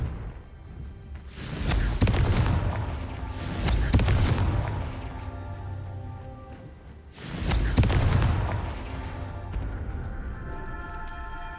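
Fiery Confringo spell blasts from Hogwarts Legacy: two booming explosions close together, a lull, then a third heavy blast, each trailing into crackling rumble and scattered debris pops, loud and close.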